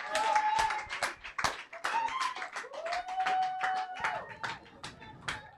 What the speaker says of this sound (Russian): выступления Александра Уткина, которого я приглашаю на эту сцену под ваши бурные аплодисменты